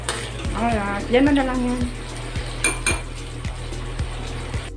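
Bitter gourd (ampalaya) being stirred and sautéed in a pan at home, with metal utensil clinks against cookware ticking out a steady rhythm beneath ongoing conversation.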